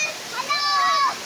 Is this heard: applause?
no